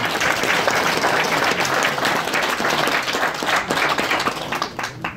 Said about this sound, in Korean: 우리 취임 축하 박수.